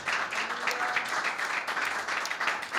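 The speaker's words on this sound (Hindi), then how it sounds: "यीशु के लिए तालियां बजाए।" A church congregation applauds for Jesus during a Hindi-language sermon, a steady, dense wash of clapping from many hands that holds at an even level throughout, with no voices rising above it.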